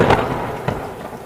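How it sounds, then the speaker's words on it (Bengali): Cartoon thunder booms and rumbles loudly, a heavy opening crack followed by a second rolling burst, filling the short moment without any speech. "ওরে বাবারে, কি মেঘ ডাকছে, ভয় লাগছে তো"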